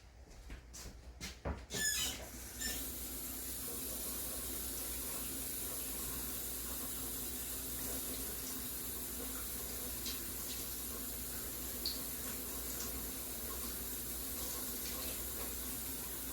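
After a few quick clinks and clatters, hot tap water runs steadily into a cup for a cake batter, a soft, even, fairly quiet stream that continues to the end.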